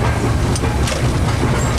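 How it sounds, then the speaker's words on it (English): Close, steady rumble and rhythmic clatter of an SY 2-8-2 steam locomotive running around a coal mine train at Tangshan, heavy low-end churn with faint hissing. "Here we are running around."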